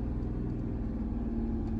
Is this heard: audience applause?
no